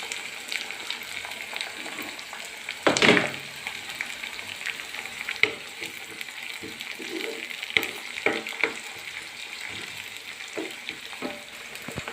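Garlic, ginger, green chilli and curry leaves fry in oil for papaya pickle, a steady close sizzle with stirring clatter and a sharp burst of crackle early on, no talking.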